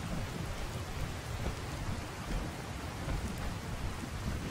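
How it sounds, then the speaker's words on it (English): Fallout 4 gameplay: steady rain hisses under low thunder rumbles, a continuous moderate storm bed with no voices. "Very good thunder sound effects."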